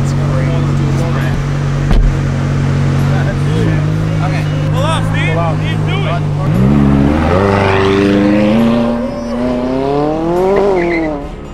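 McLaren car idling, then pulling off and accelerating hard, engine pitch climbing through the gears and swelling louder, with people talking over it.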